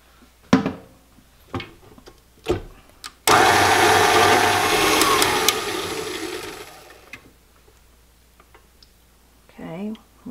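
An electric mixer beats butter, sugar, orange zest and egg for sugar cookie dough, a loud whirring burst of about four seconds that fades out, with scattered clicks and knocks before and a soft voice near the end.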